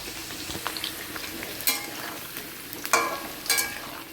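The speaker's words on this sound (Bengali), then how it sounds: "মাংসের আলুটা ভাজা বসিয়ে দিয়েছি" Potato pieces fry in oil for a meat curry, a continuous close sizzle broken by a few sharp stirring clacks and scrapes in the pan, no talking.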